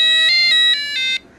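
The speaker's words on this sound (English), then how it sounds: "So you get melodies instead of just a standard beeper." A cheap Chinese cube alarm clock plays a bright electronic alarm melody, a short run of clear beeping tones stepping in pitch, loud and close, then cutting off abruptly.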